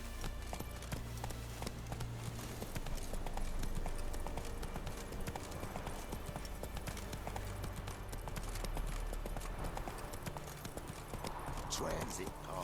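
Horse hooves clip-clop steadily throughout in The Witcher 3 game, a continuous rhythmic trot with a voice speaking over it.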